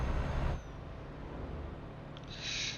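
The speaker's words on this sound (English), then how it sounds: "Already the sound of the truck's great, love that." Heavy truck engine in Euro Truck Simulator 2, a deep steady rumble that loudens briefly at the start, then settles into a low drone, with a hissing burst near the end.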